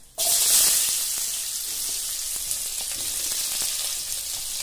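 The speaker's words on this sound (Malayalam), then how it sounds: "ഇനി നമുക്ക് ഉള്ളി ചേർക്കാം." Onions hit hot oil already frying with cloves and cinnamon, setting off a sudden loud hiss that settles into a steady close sizzle with faint crackles.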